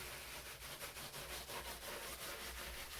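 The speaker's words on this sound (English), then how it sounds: "I'm just going to give everything a quick rubbing just to make sure there's no" A surface in a studio is rubbed to clear away loose bits after rolling, giving a steady, faint scratchy friction that runs continuously without talk.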